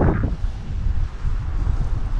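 Strong seaside wind blowing at Xinfeng, buffeting the microphone with a loud, continuous low roar and gusty fluctuations, with no voices.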